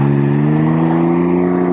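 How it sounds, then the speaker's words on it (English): Can-Am Ryker Rally three-wheeler engine hums loudly and steadily at close range as it is given a little throttle, a smooth even drone with no voices. "Okay, you just give it a little gas and she goes."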